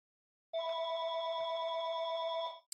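A phone rings with a steady electronic tone for about two seconds after a brief silence. The sound is clear and close, with no one talking over it.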